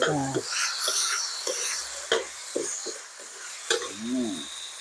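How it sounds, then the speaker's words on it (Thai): Chicken liver and kidney stir-frying in a pan, with light sizzling and scraping strokes of a spatula at irregular intervals, heard up close beneath a person talking. "ต้องผัดให้มันสุก ผัดตับไตอ่ะ"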